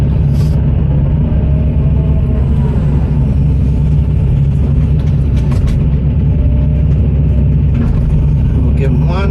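A heavy diesel excavator works at a loadout site, scooping material into a truck with a loud constant engine rumble, scattered clanks and scraping of the bucket, while someone talks over the machine noise.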